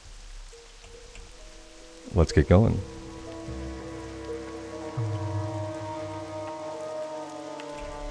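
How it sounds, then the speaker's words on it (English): Steady rain falls in the Darkshore zone of World of Warcraft Classic, a continuous soft patter under ambient music tones, with a brief burst of speech near the start. "It's quite a rainy day here in Darkshore."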